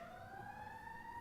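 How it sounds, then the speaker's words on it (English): Emergency vehicle sirens wail outside during a city budget meeting, two steady rising tones held continuously and moderately faint across the clip, with no talk over them. "Can you talk over the sirens?"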